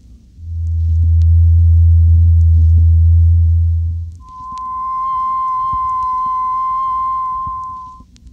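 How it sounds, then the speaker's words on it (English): A loud, deep pure sine tone hums for about four seconds, then a higher steady sine tone sounds for a similar stretch, both smooth and unwavering. "Sine Waves of Different Frequencies."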